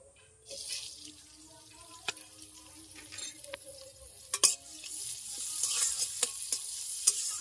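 Chopped onions drop into hot white oil in a wok. After a brief quiet start, a loud, close hissing sizzle builds and holds, punctuated by sharp clicks and spatters.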